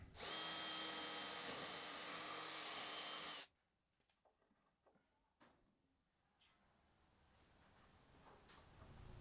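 A power drill bores dowel holes in wood for a bar stool build. A loud, steady whine runs for about three seconds and then stops abruptly, followed by faint knocks and handling noises.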